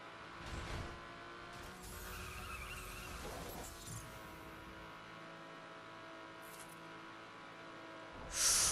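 A car in The Crew racing game drives with a steady engine drone as its tires skid and squeal through a long slide, ending in a sharp burst of noise.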